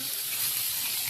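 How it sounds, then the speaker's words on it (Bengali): Tomatoes fry in a hot pan in a home kitchen, giving a steady, close, bright sizzle that hisses evenly throughout with no pauses. "এখন ভেজে নিতে আসছি টমেটো।"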